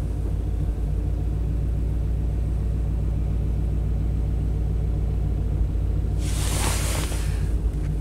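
Classic Chevy engine idling with a steady low rumble and slight unevenness as it begins to misfire, close and continuous, with a brief hissy burst partway through.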